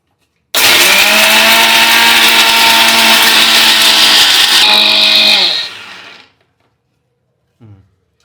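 Mixer grinder grinding grated coconut for a ridge gourd curry, one loud continuous whir of about five seconds that winds down and stops, followed by a brief faint clatter.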